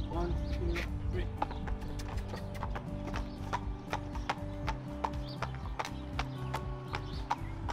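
A lame horse walks or trots during a flexion test, its hooves giving a steady, regular clip-clop of sharp footfalls, with a voice talking over them.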